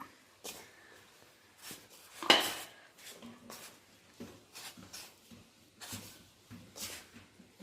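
Sweet ingredients are mixed by hand in a bowl, making a quiet series of irregular scraping, rustling strokes with a sharper clink near the middle and soft bumps against the bowl.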